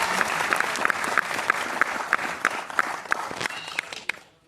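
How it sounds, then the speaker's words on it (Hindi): A crowd at a UP Police constable celebration meetup claps loudly and steadily, with a few sharp, prominent claps repeating over the dense applause before it cuts off abruptly. "एक बार जोरदार तालियां, बसते रही तालियां भाई।"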